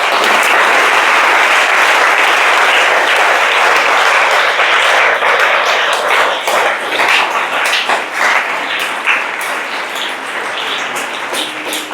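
A church congregation at a seminar's closing service applauds loudly and steadily, dense clapping filling the room without pause and thinning slightly toward the end.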